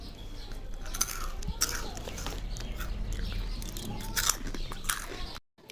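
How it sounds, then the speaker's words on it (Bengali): A woman eats raw boiled crabs and bites through the shells in close, crisp crunches and chewing clicks that repeat irregularly, with faint background sound and a brief drop to silence at the end. "দেখো এই আন্টিটা কীভাবে করে কাঁচা সেদ্ধ কাঁকড়াগুলো খেয়ে নিচ্ছে"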